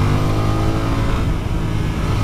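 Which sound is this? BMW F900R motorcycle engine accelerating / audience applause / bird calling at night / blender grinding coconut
BMW F900R motorcycle engine accelerating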